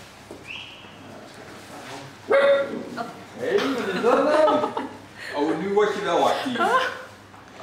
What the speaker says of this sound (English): A bit of bark.